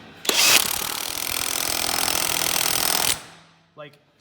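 A power wrench running on the flange nut of a Jeep Gladiator, one loud continuous rattling burst of about three seconds, followed by a short spoken word.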